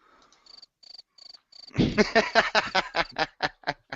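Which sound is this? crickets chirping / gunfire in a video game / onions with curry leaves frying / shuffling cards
crickets chirping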